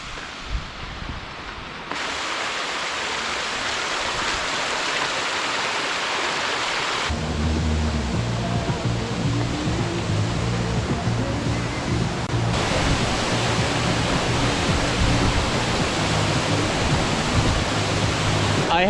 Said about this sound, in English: I already got this beautiful waterfall view.